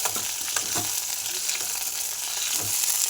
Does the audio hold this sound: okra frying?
yes